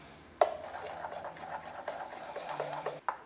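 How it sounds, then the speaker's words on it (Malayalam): Achappam batter of coconut milk, salt and white sesame being mixed in a bowl for Kerala-style rosette cookies: a steady soft churning and scraping with faint clinks at the start and end, close and fairly quiet, no talking. "ഇതെല്ലാം കൂടിയിട്ട് നന്നായിട്ട് ഒന്നും കൂടി മിക്സ് ചെയ്യുക"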